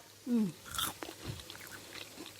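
Crispy deep-fried mushroom stems being eaten: soft, close crunching and chewing noises scattered through the moment, beginning with a brief voiced murmur, fairly quiet overall.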